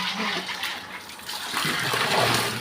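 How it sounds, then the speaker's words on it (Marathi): Water runs from a tap into a large drinking-water pot with a steady splashing rush that gets louder and fuller toward the end. It is close by and no voices are heard. "थोडा हंडा भरून द्या मला प्यायचं पाणी भरू दे"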